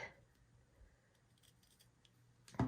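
Scissors trim a fabric pumpkin applique on a flour sack tea towel. A near-silent stretch ends in one short, sharp snip close by.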